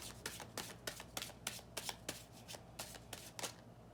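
Tarot cards shuffled by hand at close range, a quick series of crisp riffling bursts and soft slaps in an irregular rhythm, quiet and with no talking.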